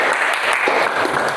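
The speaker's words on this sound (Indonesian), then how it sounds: "Tepuk tangan untuk kita." Classroom applause from a group of students and teachers, dense steady clapping filling the whole moment at even loudness, with no voices standing out.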